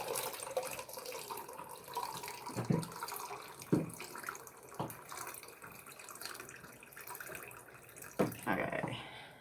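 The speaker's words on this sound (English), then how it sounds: "let's add this water" Water streams steadily into a pot while homemade chocolate sauce is being made, with a few sharp clinks and knocks breaking through the continuous pouring.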